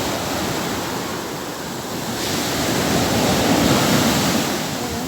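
Rough, agitated sea surf surging and crashing onto the shore and churning up the ground, a steady broadband roar that swells louder midway, with wind buffeting the microphone and no talking.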